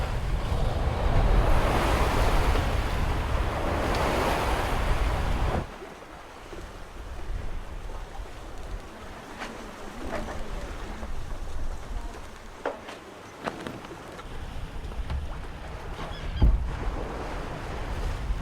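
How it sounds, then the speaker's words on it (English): Waves slosh and surge around a sailboat in the Caribbean Sea while wind roars across the microphone, loud at first, then a steadier lapping with occasional knocks. "collect the sounds and the feelings of just being on a boat out in the Caribbean Sea"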